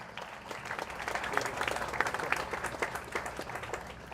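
A fairly quiet audience claps steadily throughout a World Environment Day global ceremony, a soft wash of many hands heard from a distance.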